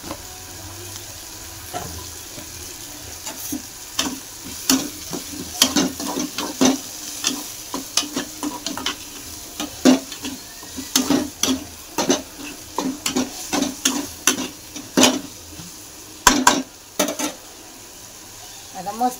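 Food fries in a pan with a soft background sizzle, broken by frequent sharp clinks and scrapes of stirring against the pan, moderately close, with occasional brief talk.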